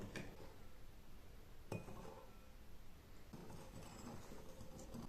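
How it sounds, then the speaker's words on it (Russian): Salt and sugar stirred into water in a bowl for a carp marinade, with light clinks of a spoon against the dish over a faint, steady background. "Размешиваем соль и сахар, чтобы он растворился в нашей водичке."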